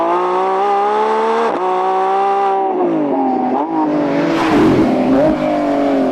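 Lamborghini Revuelto V12 accelerating hard in Sport/Performance mode, a loud, smooth rising engine note that climbs steadily, dips briefly at a shift, then swells into a louder roar near the end, heard alone without talk.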